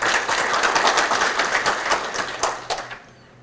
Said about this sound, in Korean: 이현수 회장님께 다시 한번 큰 박수 부탁드리겠습니다.